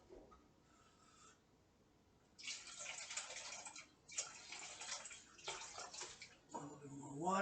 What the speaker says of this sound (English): And I'm gonna be adding some more water.